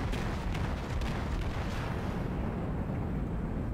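The Fuso battleship fires its guns in World of Warships, producing a dense, sustained booming roar with heavy low rumble that stays loud throughout while its sharper upper crackle fades toward the end.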